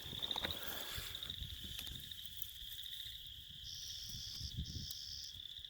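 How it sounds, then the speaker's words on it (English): A tiny chorus frog calling near a big lake on Moss Lake Trail at Elk Island, thin high trills repeating faintly over soft outdoor ambience and insect buzz. "There's a little tiny chorus frog."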